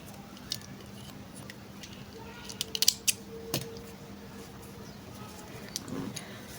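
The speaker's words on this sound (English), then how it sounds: "I'll cut off the yarn." Scissors snip through crochet yarn in a few quick, quiet clicks over a faint, hushed room background.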